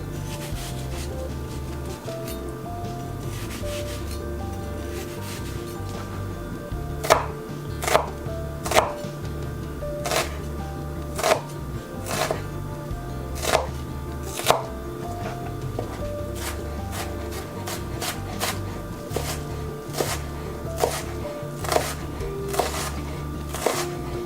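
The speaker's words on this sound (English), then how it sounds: "we're going to cut up this onion as small as we can" A knife chops an onion finely on a cutting board, starting with quiet slicing and then sharp, evenly spaced taps that come faster and louder toward the end.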